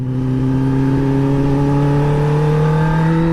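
A motorbike accelerating on a ride, its engine note rising steadily as speed builds, loud and close throughout with no talking.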